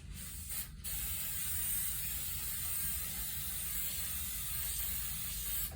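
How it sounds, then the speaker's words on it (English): Spray adhesive for foam and fabric hisses in a steady continuous jet onto a cushion cover, close and even for several seconds after a brief start-up, with no talking. "And I just start by spraying one side of my cover."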